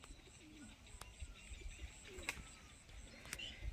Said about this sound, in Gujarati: એ છે આપણા કબૂતર ભાઈ બહારવાળા સેટઅપમાં